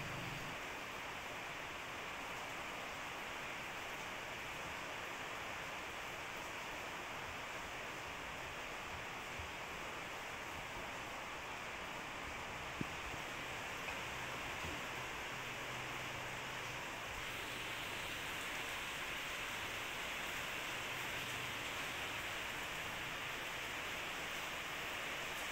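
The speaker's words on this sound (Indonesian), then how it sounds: "suara hujan di luar itu cukup deras ya teman-teman" Heavy rain falls outside at night, a steady dense hiss that holds at the same level from start to finish with no pauses and no speech over it.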